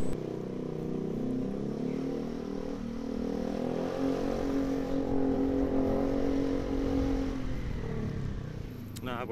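A Honda Beat scooter engine fitted with a new exhaust drones steadily while riding, a continuous mid-loud hum with wind noise throughout and a brief change near the end.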